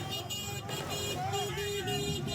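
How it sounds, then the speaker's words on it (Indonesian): Car horns honk in repeated sustained tones as drivers in Beirut celebrate a ceasefire, several overlapping toots over busy street noise and cheering voices. "Sambil berkendara, mereka membunyikan klakson dan bersorak-sorai menyambut gencatan senjata 10 hari."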